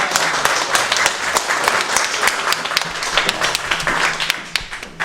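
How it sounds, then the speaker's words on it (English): An audience at a FinTech Circle summer drinks event gives a round of applause, a loud, dense burst of many hands clapping that carries on steadily and then tails off slightly toward the end. "Let's give her a round of applause"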